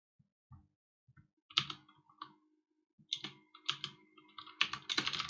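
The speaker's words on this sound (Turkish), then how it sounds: "Kullanıcı adını yazıyorum. Şifremi yazıyorum." Fingers type a username and password on a computer keyboard during an Arch Linux installation, with quiet, close, irregular bursts of key clicks separated by short pauses.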